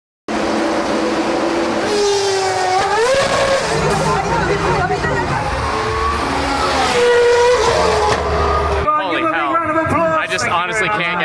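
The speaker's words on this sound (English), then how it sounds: "Honestly can't get enough of these V12s and V10s. They just sound so good." Legendary McLaren race cars with V12 and V10 engines scream past at high revs, pitch sweeping up and down through gear changes, loud and close, with crowd chatter and babble underneath.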